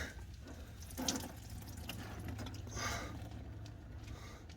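Coolant runs out of the cooling system of a 2015 BMW X5 during a water pump and thermostat replacement, a steady close trickle and splash with a few small clicks over it.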